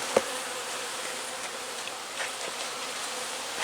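Honey bees buzz steadily around an open beehive during a split using a small queen cell, a dense continuous hum with one brief sharp knock near the start.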